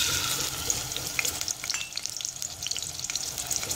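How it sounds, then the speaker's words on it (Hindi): Chopped onions sizzle in hot cooking oil over a medium flame, a continuous bright crackle and spatter with occasional stirring noises, close and fairly quiet, with no voices. "और अब मैं इसे फ्राई करूंगी।"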